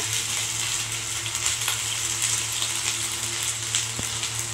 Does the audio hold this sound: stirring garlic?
yes